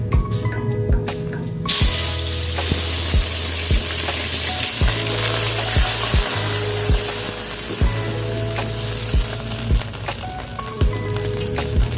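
Ground chili sambal for Medan anchovy sambal frying over a low flame in a pan of oil previously used for frying anchovies. It gives a loud, continuous close sizzle with regular clinks and scrapes from stirring.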